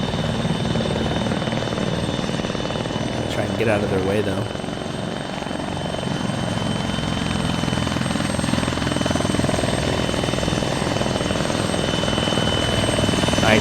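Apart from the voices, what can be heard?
helicopters landing, from video game ARMA 3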